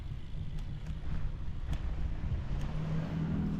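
A car drives past on a desert trail through soft sand, with a low engine rumble swelling and then holding, mixed with wind buffeting the microphone.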